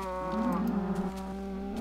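A cow in the Minecraft video game lets out a sustained, loud moo with a wavering pitch, heard up close and alone.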